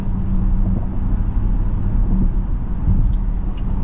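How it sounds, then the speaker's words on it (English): A 2026 Dodge Durango GT with a naturally aspirated V8 and an 8-speed transmission drives along, its engine giving a loud, steady low rumble blended with road and wind noise. "you gotta love a naturally aspirated V8"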